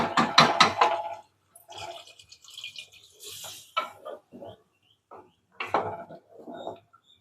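Water is poured into a pan of citron pachadi, a tangy Nagercoil-style relish with tamarind, in a short splashing burst followed by quieter trickles and a few small clinks of utensils.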